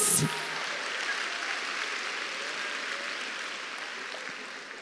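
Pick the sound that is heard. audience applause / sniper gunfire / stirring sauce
audience applause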